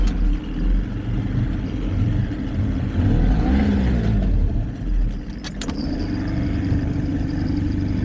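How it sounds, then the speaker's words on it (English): A motor on an old 50-year-old bass boat cranks up and runs steadily, with a loud low rumble that swells in the middle and holds to the end; no one speaks. "I'm gonna crank up the motor"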